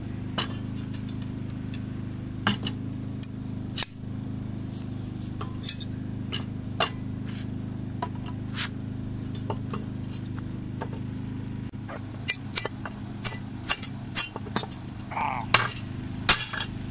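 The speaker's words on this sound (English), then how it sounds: "We broke the weld right down the middle." A poorly made 75 mm steel weld sharply snaps apart, heard as a few crisp metallic clinks and cracks over a steady low generator hum from an inverter generator running nearby.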